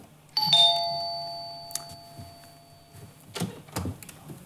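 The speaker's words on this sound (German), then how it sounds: "Also, ich klingel jetzt" A doorbell rings once with a bright electronic chime that rings out and fades, followed by a few soft clicks and rustles.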